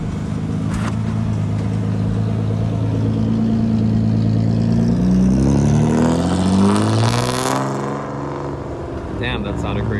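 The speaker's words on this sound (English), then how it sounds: "Check out this JZX 71 that's leaving now." A Toyota JZX71 pulls away at a Daikoku car meet, its engine rising in a loud, sustained rev with clear gear-change steps as it accelerates up a slope and moves off, crowd voices faint underneath.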